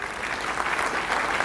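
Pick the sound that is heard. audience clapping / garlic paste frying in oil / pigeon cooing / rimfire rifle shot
audience clapping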